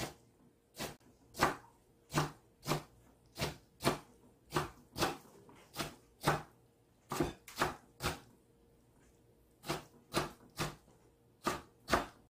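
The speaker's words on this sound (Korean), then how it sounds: "김치도요 굵게 썰지 말고 좀 얇게 썰어주세요" A knife chops kimchi into thin slices on a cutting board in a steady run of about twenty crisp, evenly spaced thuds, each short and close, with a brief pause near the eight-second mark; no talking.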